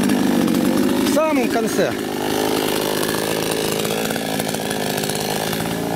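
A chainsaw runs throughout, cutting near a pond at a village site, with a steady loud buzzing drone and shifting pitch as it works. Someone speaks briefly over the engine noise.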